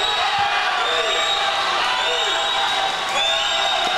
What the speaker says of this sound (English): Milligan fans cheering him on